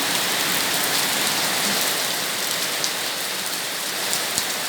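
Heavy rain pours steadily, a dense, even hiss of drops drumming on surfaces with no letup and no voices.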